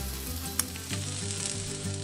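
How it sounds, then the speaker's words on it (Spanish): Tomatoes roast on a hot comal griddle, giving a steady close sizzle with a soft crackle and one sharp pop partway through, with no voices. "En un comal caliente asamos los jitomates"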